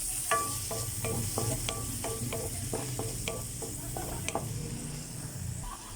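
Tomatoes sautéing in a pan: a steady close sizzle broken by a quick run of light clicking stirs and scrapes, with no talking.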